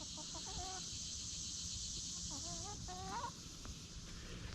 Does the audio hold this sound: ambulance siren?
no